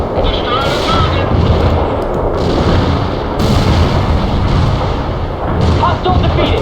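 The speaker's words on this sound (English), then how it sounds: "Artillery barrage." Artillery barrage in the video game World in Conflict: a dense, continuous roll of overlapping booms and blasts with crackling gunfire, loud and sustained, with game radio voices speaking over it.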